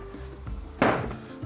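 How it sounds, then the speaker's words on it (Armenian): Rice-flour-coated fish dropped into a pan of hot vegetable and olive oil, a sudden close sizzling burst that starts partway in and fades slightly, after faint kitchen clatter. "տապակելու ենք բուսայուղով"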